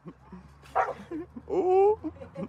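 A pit bull gives a few short barks and yips outdoors, a louder burst partway through, then a drawn-out whimpering whine, with faint murmurs of a person nearby.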